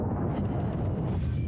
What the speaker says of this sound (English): sailing right unsuspectingly into the path of some 8-inch gunfire.